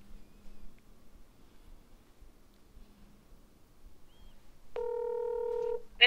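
A telephone call is placed: after a quiet stretch, a steady ringback tone sounds loud and close for about a second, then a brief electronic beep follows.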